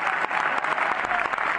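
Theatre audience applauding the actors at a Paris film premiere, a steady, dense wash of clapping from a full room with no voices standing out.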